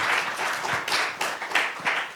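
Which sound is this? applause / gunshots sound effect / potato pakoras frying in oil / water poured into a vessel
applause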